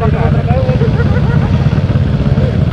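A motorcycle with an aftermarket 50 mm inlet exhaust and a freshly tuned ECU rumbles steadily on the road, a deep continuous engine drone under people talking over it.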